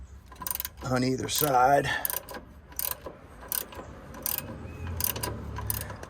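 A hand ratchet tightens bolts on a second-generation Dodge Ram, sounding as close, sharp clicking strokes in short bursts. Someone speaks briefly near the start.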